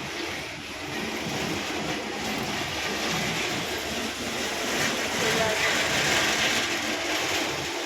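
A moving, fairly empty local train on the route from Madhyamgram toward Kakdwip rumbles steadily and loudly, a continuous rattling roar that barely changes throughout.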